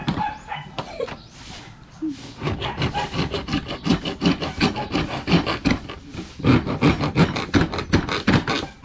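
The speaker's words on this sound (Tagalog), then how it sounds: "Garihin natin, cute na lagari oh." A small hand saw cuts through wood on a shore for making octopus traps from seashells, a loud, close rasping back-and-forth in regular strokes that speeds up toward the end.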